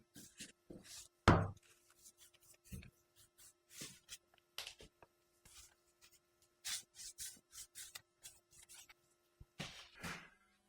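Brush strokes apply thin pigmented limewash to a wall in short, irregular swishes and rubs, with one sharp knock early on and no speech.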